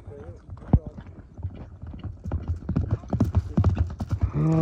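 Horses offered for sale at an ulak (kok-boru) event clip-clop along in a quick, rhythmic trot or gallop, hooves thudding close and steady, with people talking over them and a brief horse-like call near the end.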